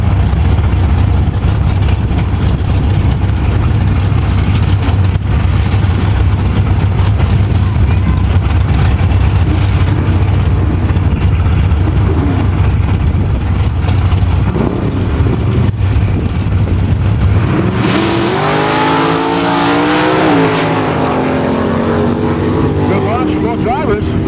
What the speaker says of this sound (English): creamin' Cecil out of Scepter, Saskatchewan, 1968 Pontiac Beaumont. Big cubic inch motor.